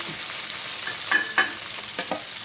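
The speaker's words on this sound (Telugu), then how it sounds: "టమాటా పచ్చిమిరకాయలు అల్లం ఇవి కూడా వేస్తున్నాను" Tomatoes, green chilies, ginger and garlic frying in a pan for a bitter gourd kurma make a soft, steady sizzle, broken by a few brief stirring scrapes. No voices.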